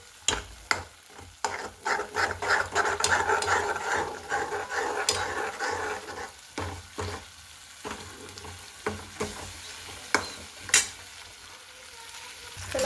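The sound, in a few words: stirring onion-tomato paste with peanuts and sesame in a pan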